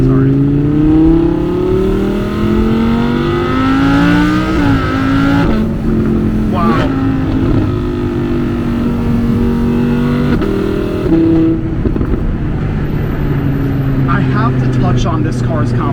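An Audi R8 supercar engine revs while stopped at a red light, heard loud and close from the cabin, its pitch rising and falling through several sweeps and then settling into a deep, throbbing idle.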